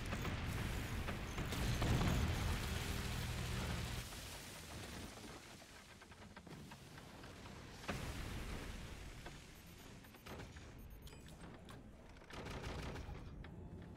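Weapon fire and explosions in the physics-based fort battle game Forts during a 4vs4 multiplayer match: a dense barrage of shots and booms, loudest early on, then scattered blasts and thuds with sharp bursts near eight and twelve seconds.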